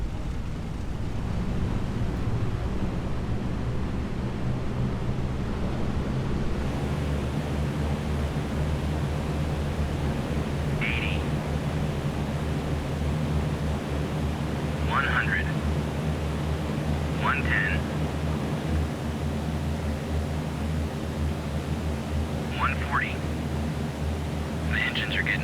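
Steady, loud multi-engine drone of an A2A B-17 bomber taking off in Prepar3D, a constant low rumble with broadband roar that persists throughout, with a few short bursts of speech over it.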